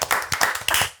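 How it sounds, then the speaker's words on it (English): A studio audience claps through a round of applause on a football podcast set, a dense burst of close, sharp hand claps lasting about a second. "Give me a round of applause."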